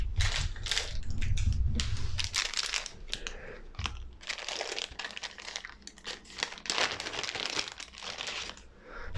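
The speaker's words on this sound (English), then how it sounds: "Oh, whoops, I just shuffled all the ones that we've already done in." Gloomhaven: Jaws of the Lion event cards being shuffled and handled on a table, a run of close crinkly riffling and slapping bursts with brief pauses, no talking.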